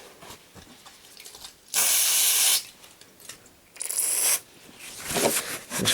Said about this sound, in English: Spray some flux cleaner on there.